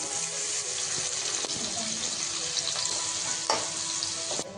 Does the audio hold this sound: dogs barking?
no